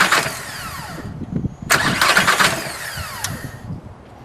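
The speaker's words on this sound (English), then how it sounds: "Okay, crank it, but don't let the engine start." A TDI diesel engine is cranked with the starter but never fires, giving a steady, rhythmic churning that runs in two stretches with a short gap between them, loud and close.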